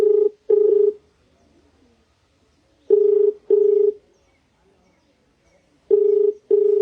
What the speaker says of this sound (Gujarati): લાગ્યો છે સબ્બીરભાઈ નો ફોન